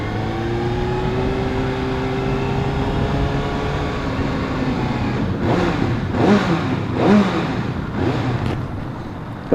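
A 2016 Kawasaki ZX6R with a quiet stock exhaust on a test ride gives a steady, loud, close engine drone with shifting tones as revs change, plus rushing road and wind noise.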